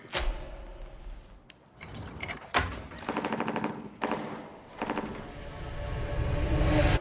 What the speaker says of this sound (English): Do you hear that? Close gunshots.